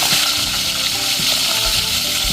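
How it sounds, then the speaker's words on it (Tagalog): Fish frying in a hot pan of oil, a dense continuous sizzle with small pops and crackles, close and fairly loud, no talking. "So magprito na po tayo."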